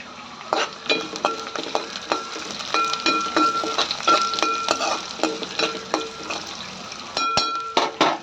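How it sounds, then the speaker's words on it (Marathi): A tempering of mustard seeds, curry leaves, chopped onion, garlic and cumin for tomato rasam is stirred in a pan, with a steady run of close metallic clinks and scrapes over a soft sizzle and no voices. "छान फोडणी हलवून घ्यायची"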